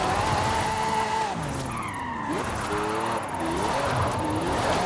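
A car in Forza Horizon 5 slides through a drift, with tire skid squeals and sweeping engine tones rising and falling over steady loud road and engine noise, alone without talk.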